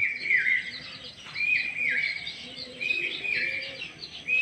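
Pigeons bred for flying call in short, repeated warbling notes, close and fairly loud, one phrase after another with brief gaps in between.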